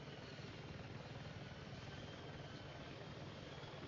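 An AH-64 Apache helicopter hovering in Battlefield 6 makes a dense, constant rotor and engine drone with a fast low thumping pulse. The sound is steady throughout, and no one speaks.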